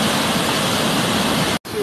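Floodwater rushing over a submerged well after days of heavy rain, a loud continuous broadband roar of moving water, cut by a brief dropout near the end.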